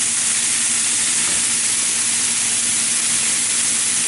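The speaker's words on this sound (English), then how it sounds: "And thick onion slices, I'm just going to drop in there." Thick onion slices sizzle in a hot pan alongside pork chops, giving a loud, steady, dense frying hiss that holds evenly throughout with no voices.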